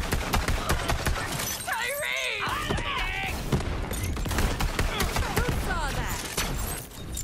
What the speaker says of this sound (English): They got some powerful guns.